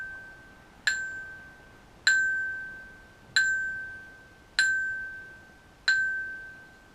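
A hand-held metal wind chime tube is struck five times at an even, unhurried pace. Each strike rings with a clear, sustained tone that slowly decays before the next one.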